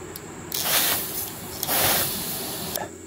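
Spray bottle spritzing onto a welded steel blade in a workshop, two or three close, loud hissing bursts of about a second each, separated by brief pauses.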